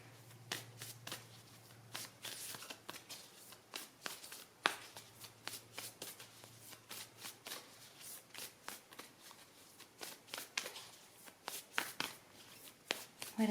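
Moonology oracle cards being shuffled by hand, a steady run of crisp riffling and slapping card sounds close up, with short pauses between bursts and no talking.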